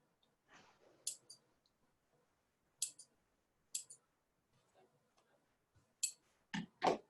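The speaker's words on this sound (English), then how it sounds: "I'll give this a few seconds while I trim up these threads and see." Scissors snipping loose threads while a strap is being made, heard as sparse, sharp clicks and snips in short bursts with quiet gaps, fairly close and alone.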